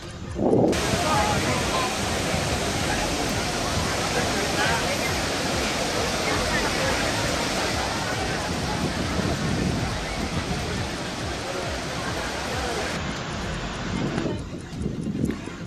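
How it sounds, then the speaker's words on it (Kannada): Bharachukki Falls roars steadily and loudly, a dense, unbroken rush of crashing water that fills the whole scene. "ಭರಚುಕ್ಕಿ ಜಲಪಾತ ಬೋರ್ಗರೆದು ಧುಮ್ಮಿಕ್ಕುತ್ತಿದೆ."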